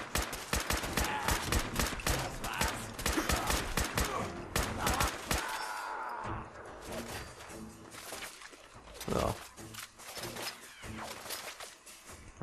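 Rapid bursts of gunfire from the video game Fallout 4 crackle loud and dense in repeated volleys, easing into scattered shots and quieter game sounds in the second half.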